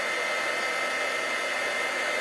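Heat tool blowing continuously at high power while heat embossing a card, a loud, even roar with no breaks or talk.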